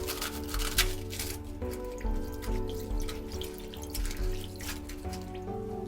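Lettuce and green leafy vegetables being washed in cold vinegar water, with running water, splashes and drips, and soft squishing as leaves are handled nearby under a steady low hum.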